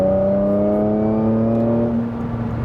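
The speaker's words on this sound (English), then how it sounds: "we can accelerate from 70 to 100 as soon as we have the safe possibility to do so" A Porsche Macan GTS with a 3.0 V6 accelerates hard on the Autobahn, its engine note climbing in a loud, steady rising drone from inside the cabin before easing off near the end.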